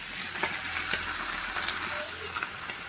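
Chicken skins fry in a hot pan with a loud, continuous sizzle and hiss throughout, broken by occasional crackles and pops.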